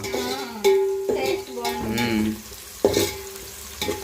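Whole spices and bay leaves for pulao frying and being stirred in a pan, with a steady sizzle broken by several sharp scrapes and clinks of a spoon against the vessel, close up and without talk.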